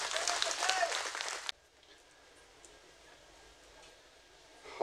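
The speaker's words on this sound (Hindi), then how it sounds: "तालियों से इनका स्वागत करें।" An audience applauds to welcome India's Union Minister of Earth Sciences, Kiren Rijiju; a burst of clapping fills the first second and a half, cuts off sharply to near quiet, and resumes faintly at the very end.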